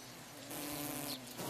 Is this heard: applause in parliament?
no